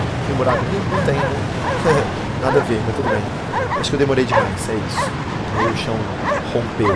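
Dog barking in the video game Cryostasis, repeated yips and whimpering barks scattered throughout under continuous talking by a player.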